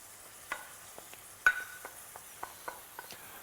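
Black beans go into a hot pan of searing beef, a quiet sizzle broken by light scrapes and clicks of stirring, with a sharper clatter midway and no talk.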